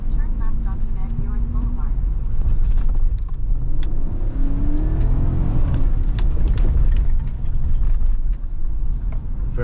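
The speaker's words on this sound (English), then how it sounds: "so we're going to do an acceleration run here" A 2015 Chevy Tahoe police interceptor SUV accelerating from low speed, its engine note climbing and swelling loudly inside the cabin, with road rumble underneath.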